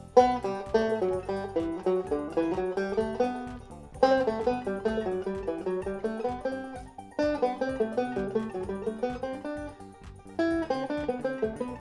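Electric or acoustic guitar plays a six-note thirds pattern reversed along a single string, a steady run of picked notes in repeating phrases, clear and close with no talking.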